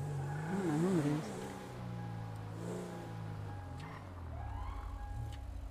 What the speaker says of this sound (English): Oh, I hear a car alarm.